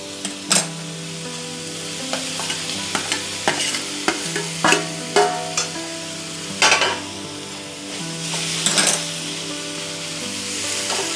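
Potatoes going into a hot pan for a Bengali fig (dumur) curry, with steady sizzling under repeated sharp scrapes and knocks of a spatula stirring against the pan, close and busy throughout.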